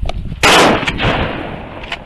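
A single loud, close shotgun blast rings out on open water during a duck hunt, followed by a rolling echo that fades over about a second and a half.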